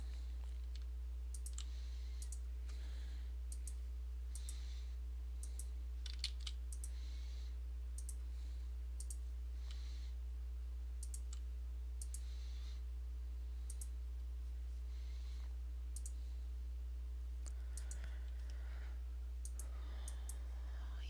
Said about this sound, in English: keys on my keyboard to increase the size of the brush